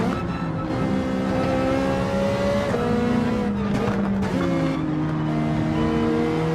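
A race car in Gran Turismo 7 on PSVR2 passes with a loud, continuous engine whine that shifts pitch as it goes by, with brief tire squeal and no talking.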